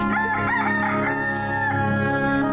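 A rooster crows loudly and close, one long drawn-out call over a steady background hum.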